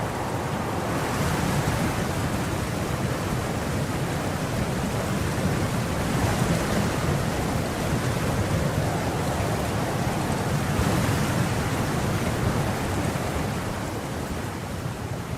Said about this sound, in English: the downpour got much worse